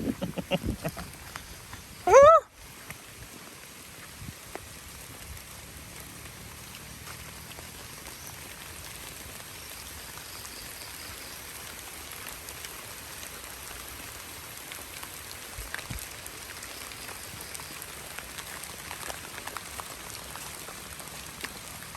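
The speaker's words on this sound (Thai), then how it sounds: "ฝนตก" Rain falls steadily on flooded rice fields in rural farmland, a dense, even hiss of drops continuing throughout, with a brief loud knock near the start and faint scattered background sounds.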